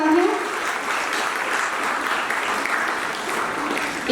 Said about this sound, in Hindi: एक बार इन सारे ही पार्टिसिपेंट के लिए बहुत जोरदार तालियां